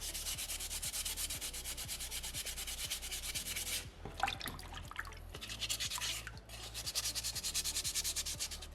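Sandpaper rubs rhythmically over a small soapstone orca carving in quick, close back-and-forth strokes, breaking into scattered scratchy scrapes partway through before the steady sanding resumes.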